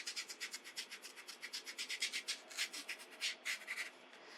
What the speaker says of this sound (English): we're going to scrub right in here